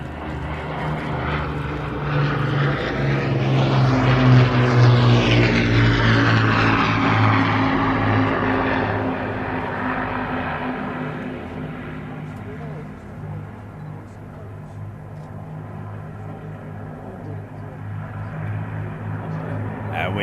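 Battle of Britain Memorial Flight propeller aircraft at Duxford pass close overhead, a loud droning engine roar that swells to a peak, shifts in pitch as it passes, then fades steadily into the distance.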